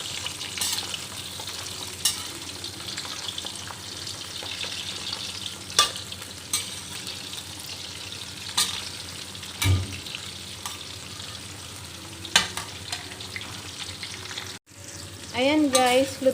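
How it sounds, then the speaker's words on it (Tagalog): Continuous sizzling of prawns frying in hot oil, with scattered pops and utensil clicks; a brief voice appears near the end. "So, ilalagay na natin yung ating hipon. Piprito natin yung hipon."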